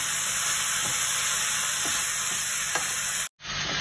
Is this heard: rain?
no